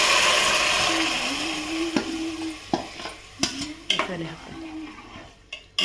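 Onions fry in a pot for a Kundapura-style fish curry, a fading sizzle under a spoon that stirs and knocks against the metal sides in several sharp scrapes and taps, with some talk.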